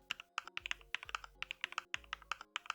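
Close, fairly quiet keyboard typing while entering figures into Tally accounting software, a steady run of crisp key clicks with a few heavier strokes like the enter key, no voices.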